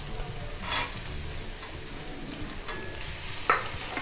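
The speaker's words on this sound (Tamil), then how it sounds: "பீன்ஸும் கேரட்டும் கொஞ்சம் வதங்கட்டும்." Beans and carrots sautéing in a pan with a quiet, steady sizzle, broken by a few sharp scrapes and clinks as they are stirred, close by.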